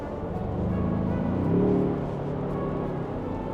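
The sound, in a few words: Ford Bronco 2.3 engine running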